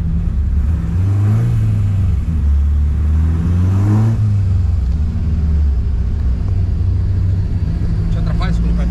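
A naturally aspirated Ford Zetec Rocam 1.6 engine on a dynamometer revs loud and close, rising and falling in pitch several times under a constant heavy rumble.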